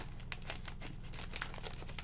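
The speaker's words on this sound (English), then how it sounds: "So pull them out of your plastic bag." Plastic bag crinkles and rustles in short bursts, close and quiet, as craft kit pieces are pulled out of it.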